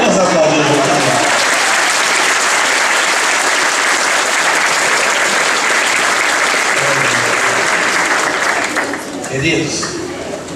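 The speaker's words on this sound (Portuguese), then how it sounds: "Vamos aplaudir o Juquinha." A church congregation applauds Juquinha during a Portuguese-language sermon, a loud, sustained wash of clapping from a large crowd that holds steady for about nine seconds before thinning out, with a voice briefly audible near the end.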